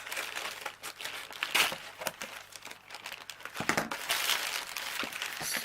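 An unpadded plastic postage envelope crinkles and crumples up close, with steady rustling punctuated by a few sharper crackling bursts and no voices.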